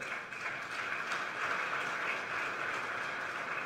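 An audience at a professional institute gathering applauds the youngest ASEP president, a steady wash of many hands clapping from a distance that holds at an even level throughout.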